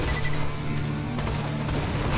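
Another Borderlands 2 grenade going off amid ongoing combat: a sustained rumbling crash with rapid gunfire-like crackles layered through it, loud and continuous throughout.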